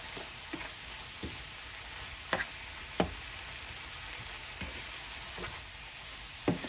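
Ground beef frying in a pan for Tex-Mex beef flautas, a steady close sizzle with occasional light scrapes and taps of stirring.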